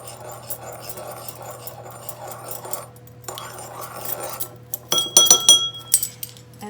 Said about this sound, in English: I'm going to stir the honey in.